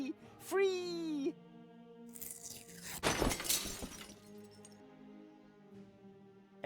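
Stained glass window shattering in the video game Deponia Doomsday, a sharp burst of breaking and tinkling glass following a rising squawk-like cry, then a trailing groan and low tones from the game's music.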